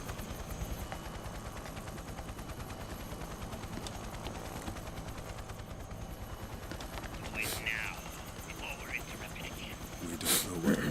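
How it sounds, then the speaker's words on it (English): Helicopter rotors in a video game cutscene, a low rhythmic chop running throughout under a speaking voice, with a few sharp bursts near the end. "you can hear somebody over the phone underneath the helicopter rotors"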